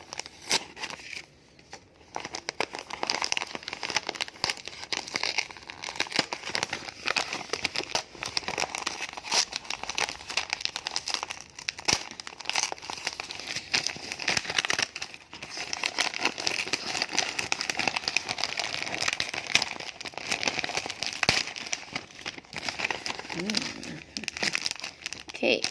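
Christmas gift being unwrapped, with wrapping paper crinkling and rustling steadily and close up for a long stretch, the crackle rising and falling without pause.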